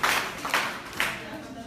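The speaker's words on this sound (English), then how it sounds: "Thank you very much. Round of applause" Applause from an audience at an event in Aachen, Germany: a few bursts of clapping that rise and fall over a short moment.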